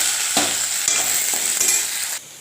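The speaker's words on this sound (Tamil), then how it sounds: "இப்போ கருவேப்பிலையும் உருளைக்கிழங்கையும் போட்டு நல்லா வதக்கிக்கலாம்." Oil sizzles and crackles steadily as potatoes and curry leaves are stirred in a pan, with a few scraping strokes, before the frying noise suddenly drops away.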